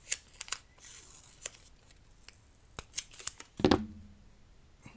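Scissors snip a small piece of masking tape with several sharp, close clicks at irregular intervals. A louder crinkling rustle of handling comes near the end.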